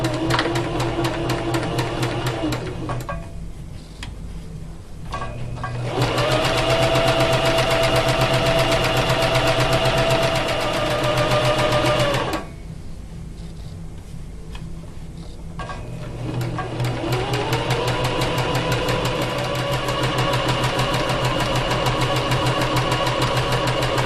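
A sewing machine runs in long steady stretches, its motor whirring loud and close with a rapid needle rhythm, pausing briefly twice before starting up again as fabric is stitched.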